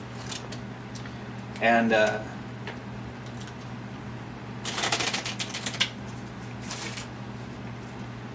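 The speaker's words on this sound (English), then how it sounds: "I'm going to shuffle it a few times." Brisk riffling bursts of a card deck being shuffled, two or three short rounds with pauses, heard close up alongside a steady low hum and a brief spoken word.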